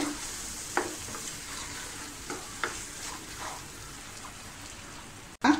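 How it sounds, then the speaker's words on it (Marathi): Ground masala paste sautés in oil in a covered pan for a mushroom and peas curry, a soft, quiet sizzle with scattered pops and spatters, ending in a louder clatter, likely the lid, and no talk. "आता आपण हे वाटण या मसाल्यामध्ये तेल सुटेपर्यंत छानपैकी झाकण ठेवून परतून घेऊया"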